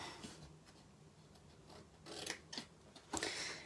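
A few quiet, crisp snips of scissors cutting, spaced irregularly toward the end, over a faint steady background hiss.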